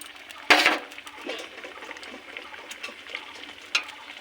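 Ground spice paste drops into a hot pan on a home stove, giving a sharp clatter at first, then a soft, fairly faint sizzle with a few light scrapes and clinks.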